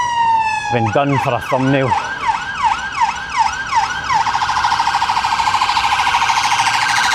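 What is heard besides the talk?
ambulance siren in city street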